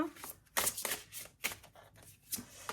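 Slippery oracle cards being shuffled by hand, a few quick riffling bursts of crisp card flutter close up, separated by short pauses, quiet overall.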